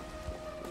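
Rain falling in Minecraft on the Enigmatica 2 modpack, a soft, steady hiss of patter with a faint tonal hum running beneath, low and continuous.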